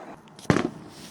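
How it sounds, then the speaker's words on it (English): A single short firework burst pops once, sharp and fairly close, against a quiet backdrop in a children's story about trains watching a fireworks display. "These fireworks look amazing"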